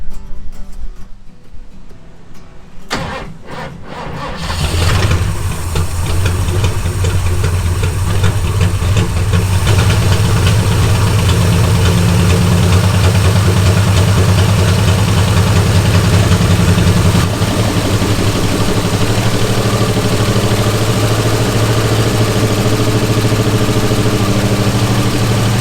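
A Ford Falcon XB ute's 302 Cleveland V8 cranks briefly, then catches and settles into a loud, steady, rumbling idle that runs on without a break, close to the listener.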